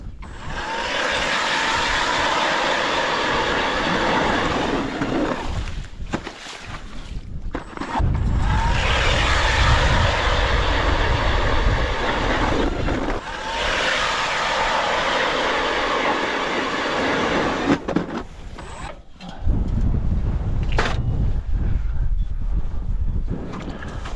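Ice auger drilling holes through lake ice for ice fishing, heard as loud, close, sustained motor whine and grinding in several long bursts separated by brief pauses, with no talk.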